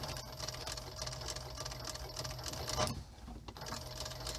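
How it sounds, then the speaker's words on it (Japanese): A TK341 sewing machine runs steadily at close range with a continuous mechanical whir and rapid needle clatter, briefly easing off near the end before picking up again. "この TK341 っていうこのミシンね"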